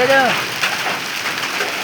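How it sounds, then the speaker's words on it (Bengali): Steady rain patters down over a jute field in a broad, even hiss, with a brief voice at the very start. "এই যে বৃষ্টি হচ্ছে, ভালো মতো দেখাতে পারছি না, একবার বৃষ্টি হচ্ছে।"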